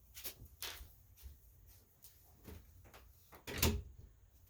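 A household door swings shut with a few soft knocks and rattles, then one louder close near the end, heard nearby in a quiet room.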